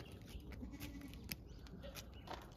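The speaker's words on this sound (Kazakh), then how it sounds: "Мынау теке." A billy goat bleating on a rural Kazakh homestead, a few faint, distant wavering bleats over a steady outdoor background hum with scattered clicks.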